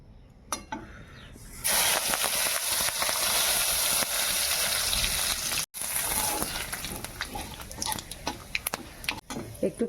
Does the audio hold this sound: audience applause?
no